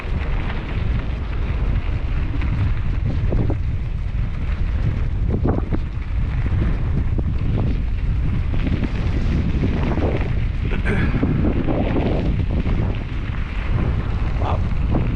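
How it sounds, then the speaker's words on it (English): Strong wind blows outdoors, buffeting the microphone with a continuous loud low rumble and gusting roar that stays steady throughout. "Wow, the wind just started blowing."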